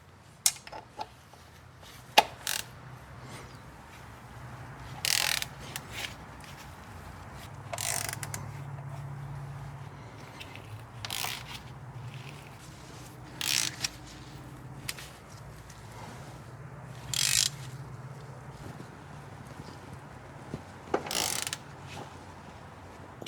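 A ratchet wrench clicks as it tightens a bolt on a Mercedes W204/W205/W212 during an oil and fluid service, giving short, sharp ratcheting bursts at intervals over a low background hum, with no talk.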